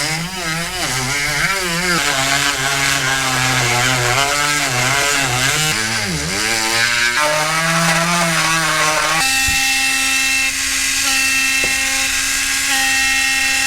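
A cheap Dremel rotary tool carves a Honda S2000 interior panel, a loud high whine wavering in pitch as it bites and eases, then steadying into a constant tone near the end, close and continuous.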